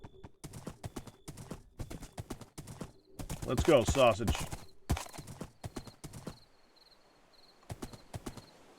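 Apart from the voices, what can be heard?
horse hooves clip-clopping in a video game (Sunlit Valley)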